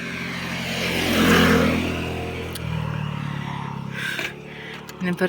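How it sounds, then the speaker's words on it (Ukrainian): A moped drives past on a mountain road, its engine swelling to a close, buzzing peak then fading as it passes, with wind noise and a person speaking nearby. "Мопед проїжджає."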